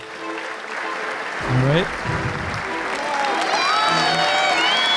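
An online networking session audience applauds as a steady wash of clapping under a host's voice, and a brief remark is spoken over it.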